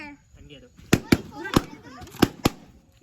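Firecrackers burst in a run of five or six sharp, loud cracks at a party for a bride and groom, spaced irregularly over a few seconds with a faint murmur of voices in between.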